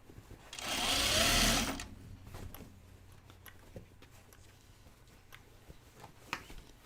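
A sewing machine runs in a short, loud burst of about a second, then quiet room noise with scattered small handling clicks follows.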